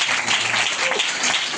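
At a Christmas church gathering, the crowd bursts into brief, loud clapping, a thick burst of many hands with faint voices mixed underneath.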